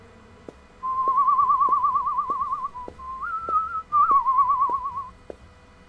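A character whistles Ave Maria in Uncharted 4, a clear, wavering solo melody held in long sustained phrases, close and steady, over faint regular ticking in the background.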